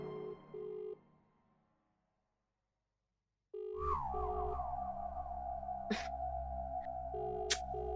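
A telephone rings unanswered in a Hindi-dubbed film scene: short repeated ring tones, a pause into silence, then a louder sustained electronic tone with a falling sweep and a few sharp clicks.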